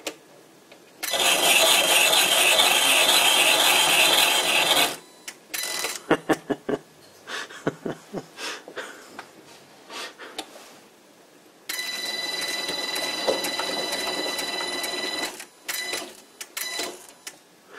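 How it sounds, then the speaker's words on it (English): Motorized sliding spindle cutting threads into wood, heard as two long, loud stretches of steady whirring and rasping with clicking and knocking between them. "so I can easily reverse the spindle. I'm not sure if this motor is strong enough"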